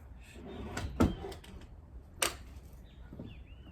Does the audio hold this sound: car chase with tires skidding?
no